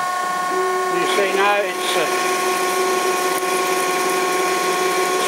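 A Denford ORAC CNC lathe runs a turning program at 1030 RPM spindle speed with 1 mm cuts, giving a steady, close motor whine with layered tones while someone talks over it.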